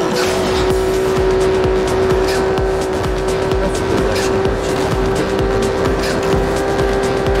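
BMW i8 electric car driving in the Need for Speed Rivals racing game, giving a loud, steady stream of motor whine and road rumble that runs unbroken from start to finish, with no voices.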